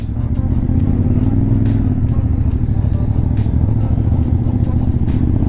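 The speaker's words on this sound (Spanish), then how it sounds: "poder manejar una moto en kartódromo" CF Moto motorcycle engine droning and revving steadily on a kart track at a demo day, loud and close throughout, with some clatter.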